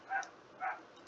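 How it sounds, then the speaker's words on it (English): Two quick, faint yaps from a neighbor's small dog, about half a second apart, sounding distant against a quiet background. "my neighbor's dog is having a Napoleon complex moment"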